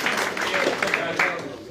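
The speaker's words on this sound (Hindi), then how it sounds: "हाँ तालियों से स्वागत करो" Applause welcoming newly joined political figures at a party induction event in Jammu, a steady dense patter of clapping throughout with a host's voice calling out names over it.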